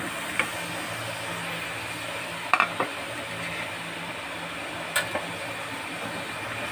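Onion, twelve garlic cloves, a two-inch piece of ginger, eight green chilies and eight to nine cashews sizzle steadily in a pan for an Afghani egg curry, with a few sharp spoon clinks against the metal.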